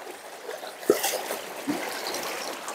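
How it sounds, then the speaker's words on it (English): Water trickles and splashes into a pot of about two pounds of rice being washed, with a couple of sharp knocks and a soft continuous running sound. "Alright, get in some water."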